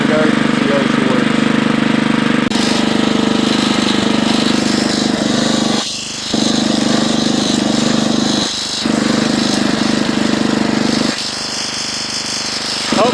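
A Husqvarna FT900 rototiller engine with water in its gasoline runs loudly and close in the garden, a rough, steady chugging drone that dips briefly a few times as the load changes.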